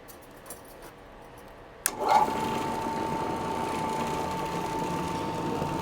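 An Oreck Orbiter floor machine starts up with a sudden clunk and then runs a cotton bonnet across carpet, a steady close motor hum with a faint whine holding to the end.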